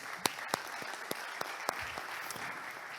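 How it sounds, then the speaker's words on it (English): Scattered audience applause at a talk on building a personal command-line tool, sharp individual claps standing out over a steady wash of hands, no voices. "Round of applause."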